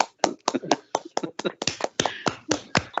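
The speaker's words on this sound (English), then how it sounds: "we need to give him a round of applause" Scattered hand claps from a small group in a radio phone-in studio, crisp and close, with uneven spacing over a few seconds as they cheer a caller.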